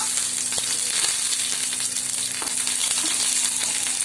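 Curry leaves sizzle and crackle in hot oil in a home kitchen pan, a steady close frying hiss with a few sharp pops, no voices.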